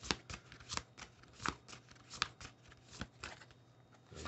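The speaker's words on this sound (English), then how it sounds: "I'm going to shuffle up another card" Tarot cards are shuffled by hand in an irregular run of soft riffling flicks and taps, close and quiet, with no voices.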